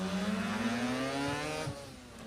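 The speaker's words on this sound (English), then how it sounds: "Unmistakable sound of a brap motor going up the hill" A rotary-engined race car, RX-7 type, climbing a hill at a historic hillclimb revival, its buzzing high-revving drone loud and steady, then easing off as it moves away.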